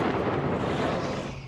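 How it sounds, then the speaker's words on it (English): Missiles breaking through air defenses strike residential neighborhoods in Tel Aviv, producing a dense, loud, rumbling explosion blast that sustains as a broad roar before starting to fade. "A CBS News camera captured the moment missiles penetrated Israel's vaunted Iron Dome air defense system and U.S. interceptors, striking residential neighborhoods in Tel Aviv."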